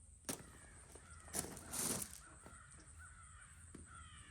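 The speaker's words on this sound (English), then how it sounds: "Here on them crows." Crows cawing from trees near a sorghum field, a few harsh calls scattered over several seconds, moderately distant and clearly heard against a quiet outdoor background.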